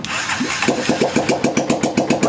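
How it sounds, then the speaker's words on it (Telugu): A motorcycle engine cranks and catches, then settles into a steady, pulsing idle of rapid, even thumps, heard close up with no talking. "బండి స్టార్ట్ చేశాను"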